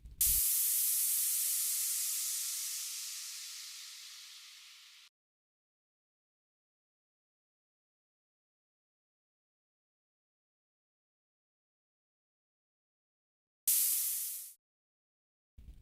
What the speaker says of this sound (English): you can get a more esoteric, atmospheric feel using a truncated and faded white noise sample